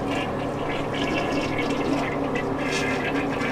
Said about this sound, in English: You flush it.